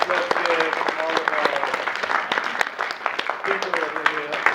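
Applause after a performance at a college show, a crowd clapping steadily throughout, with a voice talking over it.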